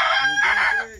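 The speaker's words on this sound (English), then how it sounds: "Rooster." A single rooster crows loudly and close, one full cock-a-doodle-doo lasting about a second as part of a sequence of animal sounds.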